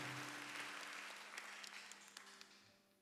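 Congregation applause at a GSJS church service, a broad steady wash of clapping that gradually fades over a few seconds, with no voices over it.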